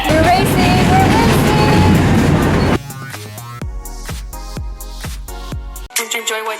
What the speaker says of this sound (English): Motorized lights and sound train.